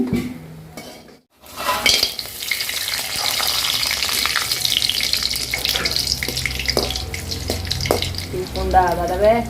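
Prawn crackers fry in hot oil with a steady, loud sizzle and crackle up close, broken by stirring clinks, while someone speaks briefly over it.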